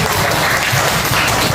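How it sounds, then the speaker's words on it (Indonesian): A class applauds after a group presentation, brief loud dense clapping from many students in a room, sustained evenly throughout. "Berikan tepuk tangan."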